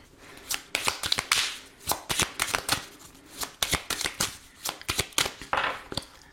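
A deck of oracle cards being shuffled and cut by hand: quick, crisp riffling bursts and card flicks follow one another steadily, close and clear with no voice.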